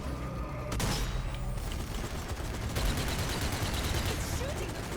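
Sustained gunfire cutting down zombie grunts in Zombie Army 4: Dead War, a dense, loud continuous barrage of shots and rumble layered under a voice talking.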